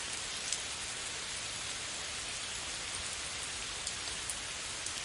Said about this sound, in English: The sounds of rain can bring relaxation anytime.